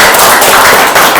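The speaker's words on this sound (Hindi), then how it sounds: "अपने लिए जोरदार तालियां बजाएं" Audience applause at a Rain BNB seminar in Sunder Nagar, Mandi: a dense, loud burst of many hands clapping together, steady throughout the brief moment with no voices over it.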